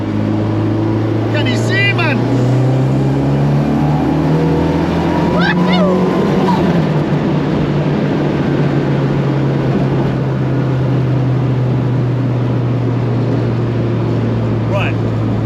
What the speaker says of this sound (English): we've got a bit of a tunnel here, so I've got to make a little noise.